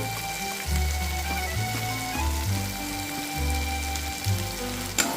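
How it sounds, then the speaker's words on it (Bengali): Spices and chickpeas for a Bengali-style chana masala sauté in a pan with Kashmiri red chili powder and chana masala, giving a steady close-up sizzle and crackle under a low, pulsing background hum. "দিয়ে সব কিছুকে আমি ভালোভাবে এখন কষিয়ে নিচ্ছি"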